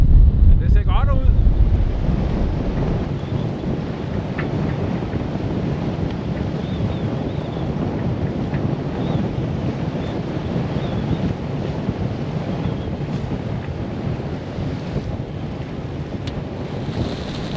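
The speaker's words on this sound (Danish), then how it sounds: "fordi det blæser så meget" Strong wind buffets the microphone aboard a sailboat near Kolding and Fredericia, a constant heavy roar with water and hull noise beneath it and a brief rustle at the start, carrying on without talk.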